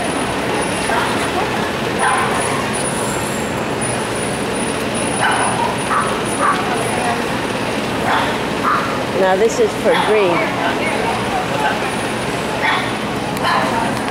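Dogs bark sporadically among a murmuring crowd at a kennel club dog show during breed judging, with people talking nearby throughout.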